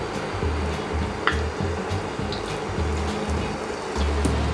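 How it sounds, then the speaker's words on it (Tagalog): Lumpia shanghai deep-fry in hot oil, giving a steady, dense crackling sizzle with a low, pulsing bubbling underneath, close and continuous throughout. "Continue lang natin ang pagprito hanggang maging golden brown."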